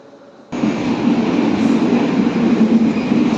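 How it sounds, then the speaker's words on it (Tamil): An express train departing Coimbatore Junction rumbles steadily nearby, a dense continuous roar of wheels and carriages rolling past at close range. "அந்த ஹம்சஃபார் எக்ஸ்பிரஸ் தான் இப்போ டிபார்ட் ஆகிட்டு இருக்கு"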